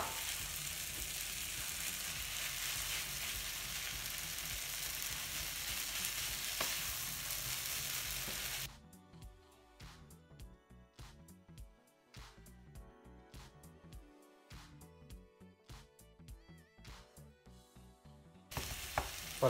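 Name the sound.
ground meat frying with peppers, onions and tomato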